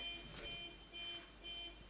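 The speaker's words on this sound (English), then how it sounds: "the car alarm that's just gone off outside" A faint car alarm outside beeps in a repeating electronic pattern, distant and muffled as if heard from indoors.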